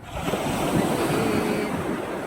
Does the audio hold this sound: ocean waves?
yes